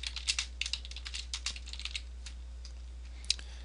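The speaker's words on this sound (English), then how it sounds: "Hit enter again or return on your keyboard" Rapid typing on a computer keyboard: a close, crisp burst of key clicks that thins out into scattered taps and ends with one sharper strike, over a low steady hum and with no talk.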